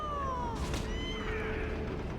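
A cat meows in the Final Fantasy XIV game world: one drawn-out, falling mew stands over a steady low background hum, followed by a softer second call. No one speaks over it.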